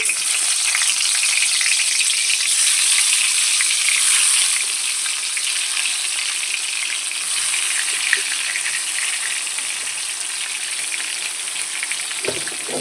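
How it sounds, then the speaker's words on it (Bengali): Dishes being washed under running water at a home sink, a steady broadband hiss of flowing water with faint clinks, continuous and fairly loud throughout, with no talking. "আর এইদিকে আমি বাসন ধুচ্ছি"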